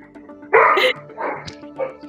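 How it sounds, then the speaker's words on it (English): Several household dogs barking in short loud bursts indoors, close to the listener, with a voice talking faintly underneath. "I have dogs as well. You can hear them."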